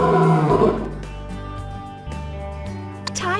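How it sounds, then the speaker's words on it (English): A tiger gives a loud, rough roar in the opening half-second, then tails off beneath a steady musical background that continues to the end. "Tiger."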